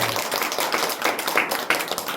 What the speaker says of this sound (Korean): 우리 박수로 한번 격려해 주세요.